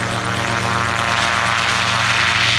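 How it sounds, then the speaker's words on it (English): RotorSport Calidus autogyro flying at the Duxford summer airshow, a loud continuous propeller-engine drone with a steady buzzing rotor tone, close and unbroken. "Into the air, the RotorSport Calidus AutoGyro from Gyro Air Displays."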